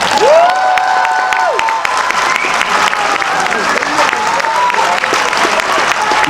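Audience at a comedy gala in Cannes applauding a performer, a dense sustained burst of clapping with some cheering and whistles, loud and steady throughout.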